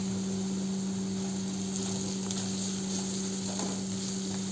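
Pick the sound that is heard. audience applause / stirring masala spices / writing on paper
stirring masala spices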